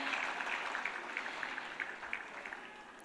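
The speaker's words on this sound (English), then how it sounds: "Let's give Vodafone another big round of applause, please" Steady, dense applause from an audience at a prime minister's international business awards ceremony in Fiji, continuous clapping that holds an even level throughout.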